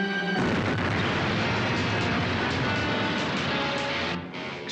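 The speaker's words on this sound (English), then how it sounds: "Explosion." A loud, sustained explosion from a submarine adventure TV series, erupting after a short quiet start and rumbling continuously for several seconds before easing slightly near the end.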